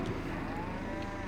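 Cattle on a farm in a farming simulation game give a long, low moo close by, with a steady hum of machinery underneath.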